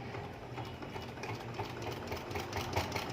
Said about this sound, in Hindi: अब आपने इस कपड़े को इस तरह से कॉर्न शेप में फोल्ड करना है, फिर इसके ऊपर सिलाई लगानी है।